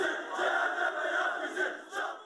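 Beşiktaş football supporters greet the team's arrival in Antalya for the mid-season camp with loud, continuous crowd chanting, a dense wall of many voices swelling in waves.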